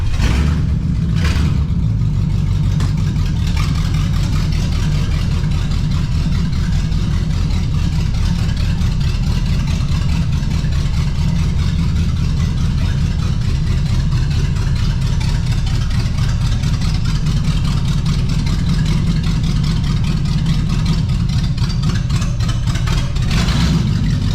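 Engine of a barn-find 1969 Pontiac Bonneville 428 station wagon, parked 45 years, running steadily as it is eased onto a lift, a loud, constant low rumble that holds throughout with no speech.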